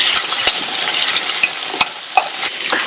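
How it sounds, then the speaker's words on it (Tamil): Onions sautéing in a pan, a close sizzling hiss broken by scraping spoon strokes as they are stirred. "அதை சேர்த்துட்டு இந்த வெங்காயம் நல்லா வதங்கட்டும்."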